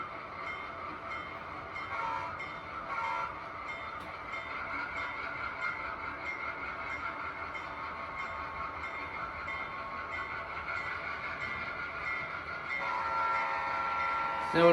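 HO scale model locomotive pulling away from a junction with a caboose, its train horn sounding over a steady rolling rumble, growing slightly louder near the end.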